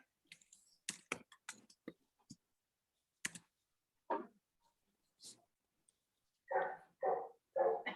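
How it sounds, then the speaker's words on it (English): A dog barks three times in quick succession near the end, fairly close, after several seconds of sharp clicks, tapping and quiet scattered sounds. "Is that one of your dogs?"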